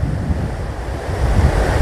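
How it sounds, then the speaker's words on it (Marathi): Continuous low rumble of water pouring out of a leak in a dam in the Sahyadri hills, mixed with wind buffeting the microphone, steady and somewhat distant. "या लीकमधून पाणी कसे बाहेर पडत आहे बघा"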